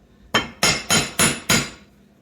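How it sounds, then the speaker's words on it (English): Five evenly spaced, sharp metal hammer blows drive a screw used as a punch against an axe handle's retaining pin, each strike loud and close with a brief ringing decay and no talk. "hammer it until the pin falls out the other side"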